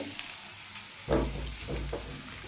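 Chopped onions sautéing in a pan with a pinch of salt: a quiet sizzle that swells suddenly into louder frying bursts from about a second in, with a few stirring scrapes.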